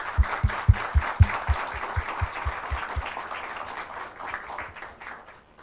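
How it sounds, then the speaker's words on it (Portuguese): An audience at a Brazilian accounting seminar applauds the speakers, a wash of steady clapping with some louder individual claps and low thumps early on, gradually tapering off. "Peço uma salva de palmas, então."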